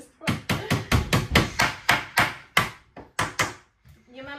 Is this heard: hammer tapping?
yes